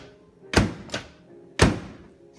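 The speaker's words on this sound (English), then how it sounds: "Door closed." A microwave oven door with a repaired door switch is shut and worked a few times, giving three close, solid thunks, two in quick succession and a louder one after a short pause.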